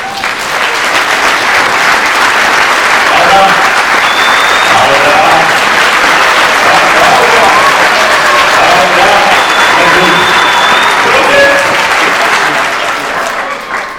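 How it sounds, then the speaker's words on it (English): Sustained audience clapping at a book launch, loud and even across roughly fourteen seconds, with a few faint whoops and cheers rising above the dense applause before it tapers at the end. "that's not how you clap for such a high level"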